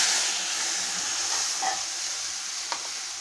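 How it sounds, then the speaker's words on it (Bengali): Whole dried red chillies, bay leaf, cumin and masala frying in hot oil in a wok, a steady hissing sizzle with a couple of faint stirring touches. "তেলটা আমার গরম হয়ে গেছে। গোটা শুকনো লঙ্কা আর তেজপাতা দিয়ে দিলাম।"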